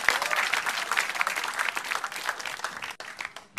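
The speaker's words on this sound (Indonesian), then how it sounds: "tepuk tangan" An audience at an Indonesian stand-up comedy show bursts into dense, sustained clapping that stays steady for several seconds, with a brief drop near the end.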